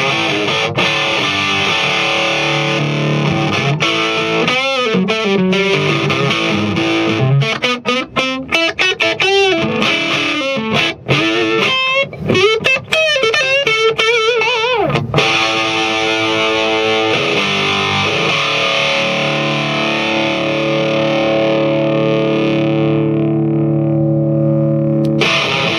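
A Marshall AFD100 guitar amp running in 100-watt mode with its power turned down plays a driven, distorted electric guitar, mixing sustained chords with fast lead runs, loud and up close, before ringing out at the end.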